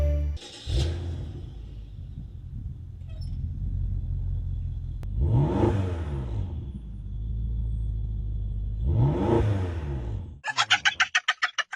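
A modified BMW tuned past 600 horsepower revs twice in strong, rising bursts over a deep idle rumble, close by, followed by a rapid fluttering burble at the end.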